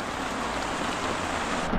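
Steady rain falls in a dense, even hiss, close and fairly loud throughout with no pauses or voices.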